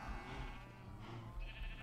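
Sheep bleating in the Minecraft video game, a steady wavering animal cry over a low hum.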